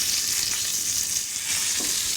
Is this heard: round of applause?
no